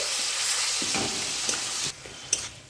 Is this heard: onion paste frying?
yes